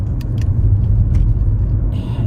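Road traffic on a three-lane, 45 mph road in Venice, Florida, rumbles low and steady as heard from inside a car, with a few light clicks and rattles on top.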